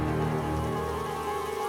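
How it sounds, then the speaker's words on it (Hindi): Heavy rain pours steadily as a constant, dense hiss with a soft drumming of drops on surfaces, unbroken and fairly loud throughout. "बाहर अभी तक बहुत तेज़ बारिश हो रही थी"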